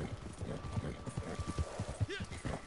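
Rapid, rhythmic horse hoof clip-clop from a team pulling a fast wagon in the Red Dead Online video game, a steady run of close hoofbeats with a brief whinny near the end and faint voice underneath.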